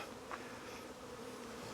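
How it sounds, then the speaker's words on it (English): Honeybees humming in the bottom box of a hive during a Demaree split, a faint, steady close-up buzz with no voices. "Lots of bees down here, which is great."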